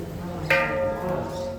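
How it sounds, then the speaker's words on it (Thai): A temple bell at a Thai Buddhist temple is struck once, giving a sharp metallic strike followed by a clear ringing tone that slowly fades over faint outdoor background noise. "ขอพรเสร็จแล้ว บอกว่าให้ตีระฆังนะคะ"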